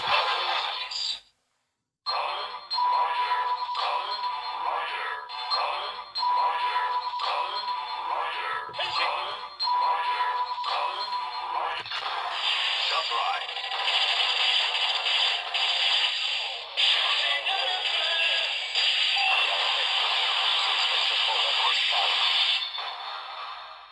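A Kamen Rider Zero-One Progrise key toy gun from the A.I.M.S DX line plays its electronic transformation effects: loud, bright buzzing and whooshing tones with a pulsing beeping pattern early on. After a brief dropout the effects carry on as a dense, steady electronic wash.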